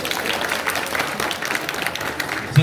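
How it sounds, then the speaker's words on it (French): A comedy show audience applauds, a dense, steady wash of clapping at moderate level that runs the whole time, with faint voices mixed in. "Vous n'êtes pas obligé d'applaudir, vous pouvez être jaloux."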